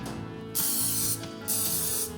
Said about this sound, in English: we're gonna coat the wells of the popover pan with some cooking spray